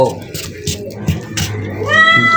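A cat meows several times close by, with some background noise around it.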